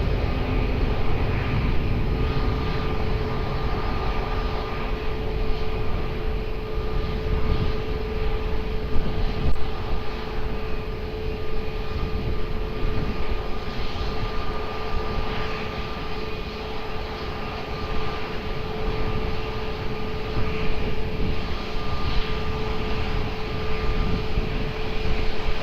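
An airliner takes off from runway 20 at Lisbon Airport, its jet engines producing a loud, sustained broadband roar with a steady low rumble that holds for the whole stretch without fading.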